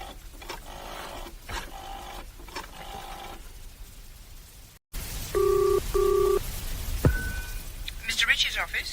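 A telephone is dialed in a quiet room: two steady paired-tone beeps, then a sliding tone and ringing, following earlier talk between people.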